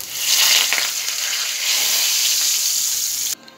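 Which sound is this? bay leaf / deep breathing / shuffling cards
bay leaf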